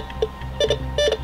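Metal detector sweeping over a backyard gives short electronic beeps and chirps, a single one and then two quick pairs, close over low outdoor rumble.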